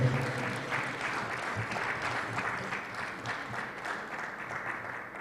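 An audience at a teachers' association Roll of Honour award ceremony gives sustained applause for an award recipient, a dense, even wash of many hands clapping steadily throughout at moderate level.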